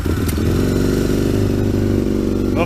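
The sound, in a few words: Aprilia RSV Mille 1000 motorcycle engine starting, loud exhaust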